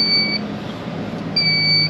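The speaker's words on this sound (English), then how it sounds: "It's beeping right now because the jacks are down." Warning beep from a Winnebago Sightseer 29R Class A motor home signalling that the leveling jacks are still down: two thin, high, steady electronic tones, one early and one near the end, over a low idling hum.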